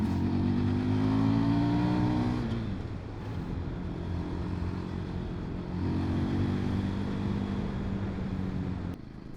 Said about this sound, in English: we're out on board the Fantic Caballero 500, and the first things to say about it is the engine's a very peppy little unit